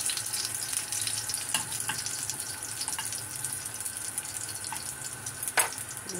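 Garlic frying in a pan for a healthy lunch dish, a continuous, moderate sizzle with a few sharp clinks of a utensil against the pan, and no talking.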